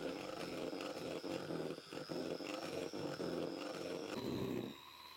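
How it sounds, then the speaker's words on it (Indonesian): Electric hand mixer running at its lowest speed, beating cake batter in a bowl: a steady, close mechanical whir with a thin high whine and a rough churning texture throughout, easing off near the end. "kemudian diaduk lagi dengan menggunakan mixer. Ini kita pakai kecepatan yang paling rendah ya teman-teman"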